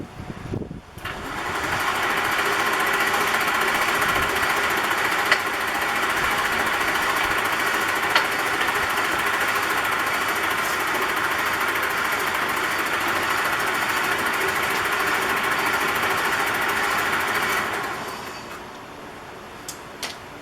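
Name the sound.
electric motor spinning the wheels of a 1968 Fiat 850 Spider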